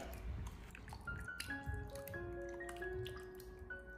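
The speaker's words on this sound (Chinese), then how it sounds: "再次的用手给它搓洗一下，将排骨上面的血水和脏东西搓洗下来" Pork ribs are rubbed and washed by hand in a basin of water, with soft wet squishing and dripping that continue steadily and close by, and no talk over them.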